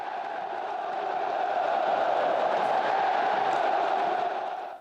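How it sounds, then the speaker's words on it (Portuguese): Flamengo football fans fill a stadium with a steady roar of cheering and chanting of 'champion' as the team leaves the field after a win, a dense continuous wall of crowd voices with no clear pauses. "O time saiu de campo com gritos de é campeão."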